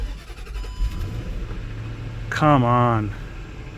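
A Range Rover bought cheaply at auction, with its engine warning light on, cranks and catches, settling into a low, steady idle while someone speaks briefly over it.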